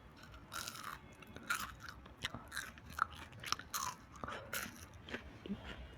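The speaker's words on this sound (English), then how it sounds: "I'll make you hear the crunch because it's amazing." Crisp crunching bites and chewing of freshly fried homemade French fries, close and quiet, with repeated crackly crunches over about six seconds.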